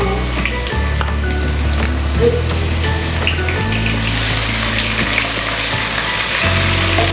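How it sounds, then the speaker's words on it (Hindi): Ginger garlic paste sizzles and crackles in hot oil in a pan over a normal flame, a continuous loud frying hiss with occasional stirring scrapes, close up and with no voices. "अब हम इसमें अदरक लहसुन का पेस्ट डालेंगे 1 चम्मच इस तरह से।"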